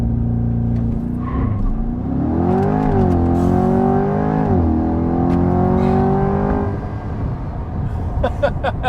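A 2023 C8 Corvette Stingray convertible launches hard, its engine roaring loud and close as revs climb, dip briefly at a shift and climb again, then ease off with a fading rumble.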